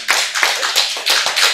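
Hands clapping at a Buddhist sermon, a close, loud run of about six quick claps in an uneven rhythm.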